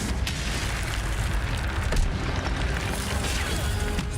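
Fiery spell blast from the Hogwarts Legacy wizard video game, a dense, roaring burst of flame and booming noise sustained across the whole stretch with a slight swell partway through.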